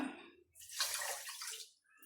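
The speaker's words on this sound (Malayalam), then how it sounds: "നമുക്ക് ഒരു കപ്പ് വെള്ളം കൂടെ ഒഴിക്കാം" A short splashing rush of a cup of water poured into a pan for laddu syrup, close and fairly soft, after a faint brief sound at the start.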